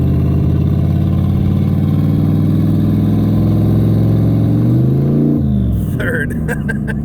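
Turbocharged 4.8 Chevrolet Silverado 4x4 pickup with a 4L80E transmission accelerating: a loud, close engine drone climbs in pitch, then drops sharply at the shift, followed by turbo whoosh and blow-off chatter, alone with no talking.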